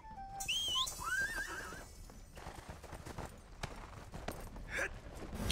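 A horse in the ArcheAge: Unchained video game gives a sharp, high whinny followed by a softer snort, with clip-clopping hooves and game effects continuing underneath.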